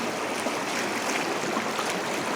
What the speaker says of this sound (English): just how much water is flowing out of the Rother